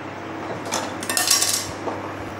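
Clatter of a metal kadai set down on a kitchen stove burner and handled, a few short clinks and scrapes close by, with no talking.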